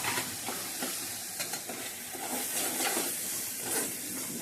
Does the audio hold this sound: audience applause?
no